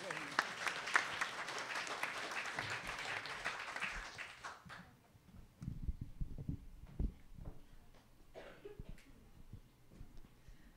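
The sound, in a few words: audience applause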